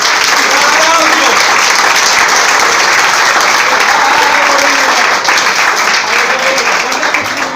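An audience of motorcycle club riders applauds at a restaurant lunch gathering in Friuli, loud sustained clapping with cheering voices mixed in throughout.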